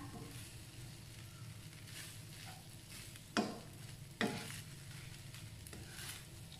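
Beef fried rice stir-fried in a pan gives a soft continuous sizzle, scraped by a spatula, with two sharper clinks of utensil against pan standing out midway.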